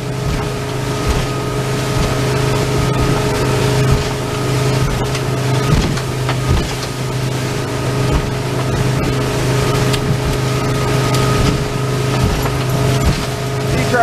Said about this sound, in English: Boat is running good.